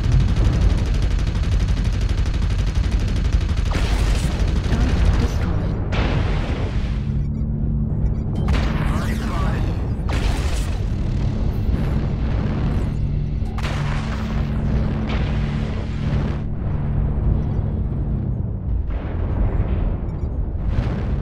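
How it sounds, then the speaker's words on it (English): Heavy artillery strikes boom and rumble in MechWarrior Online. Repeated loud explosions and crackling impacts land over a constant low, mechanical battle roar, with a steady hum running through the middle of the barrage. "Artillery shotgun, you have to go. Mr. Dial, artillery on you."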